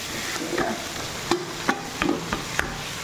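Dry rice grains being fried and stirred in a pan for pulao, with scattered scraping clicks and soft sizzling over a steady background hiss.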